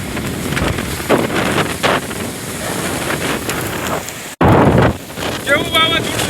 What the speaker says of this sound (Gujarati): પવન બહુ આવ્યો.